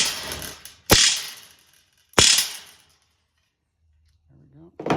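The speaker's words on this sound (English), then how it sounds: "So I take my air hammer on the head of the rivet, my bucking bar on the back side, and then you should only take a few hits" Pneumatic air hammer drives a rivet against a bucking bar on an Airstream trailer endcap, firing two sharp, loud bursts about a second apart, each ringing off briefly, after a clattering start; a voice murmurs faintly near the end.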